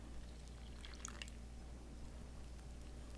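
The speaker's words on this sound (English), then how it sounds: "to this we're going to add the remaining 1 1/4 cup of water" Water, one and a quarter cups, poured into two cups of rice flour to make a thick kalthappam batter, a brief soft splashing trickle near the middle of a steady low background hum.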